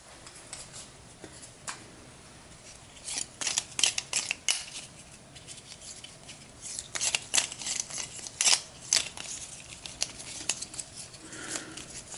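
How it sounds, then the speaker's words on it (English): Cardboard Winter Squall tokens from the Fate of the Elder Gods board game are shuffled by hand, producing bursts of close, crisp rustling and clicking that come and go with quiet gaps between them. "these Winter Squall tokens is they're so awkward to shuffle"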